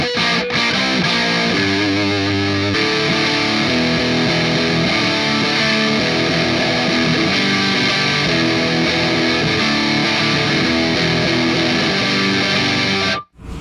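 A distorted heavy rock guitar runs from a distortion pedal through a Nux Solid Studio, playing loud, dense chugging riffs for about thirteen seconds before cutting off abruptly.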